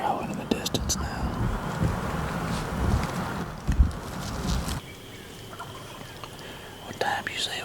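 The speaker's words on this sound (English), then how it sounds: "I can hear turkeys gobbling in the distance now." Wild turkeys gobble faintly in the distance across an Iowa river bottom at dawn, with distant thunder, wind and people whispering nearby over them.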